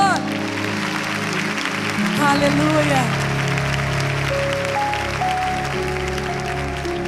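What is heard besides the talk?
audience applause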